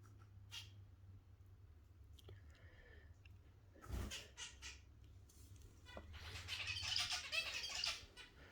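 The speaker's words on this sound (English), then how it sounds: "This is a zebra finch babies anyway, if anyone wondering." Tiny zebra finch chicks being hand-fed give faint, high, rapid begging chirps. The calls build into a busier cluster near the end over a quiet room background.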